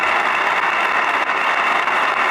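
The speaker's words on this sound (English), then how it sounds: "give yourselves a round of applause for being here" At a community meeting, a room of people applauds themselves in loud, dense, continuous clapping that holds steady for a couple of seconds with no voices above it.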